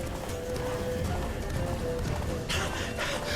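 A horse gallops in The Witcher 3, its rapid hoofbeats pounding under dense game music and ambience, with a voice speaking over it.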